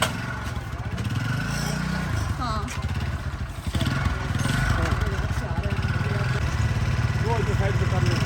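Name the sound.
motorcycle engine running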